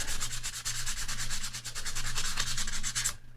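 Fine 600 or 800 grit sandpaper roughing up a metal jewelry surface for a cabochon bezel before soldering, a steady, close, continuous scratchy rubbing that carries on alone without a break before stopping abruptly.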